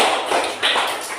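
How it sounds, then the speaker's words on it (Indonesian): Students in a gym class claps for a classmate after a floor gymnastics forward roll, a brief, close burst of group hand clapping with no talk. "Oke, tepuk tangan untuk Rasid"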